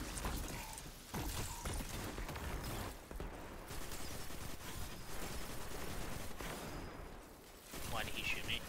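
Sustained gunfire and explosive impacts in the video game Destiny 2 fill a dense, rumbling battle mix with brief dips, while players talk underneath.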